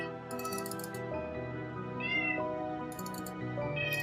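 Cats meow repeatedly in Fallout 2's Vault 13, moderately loud over a steady backdrop of piano music.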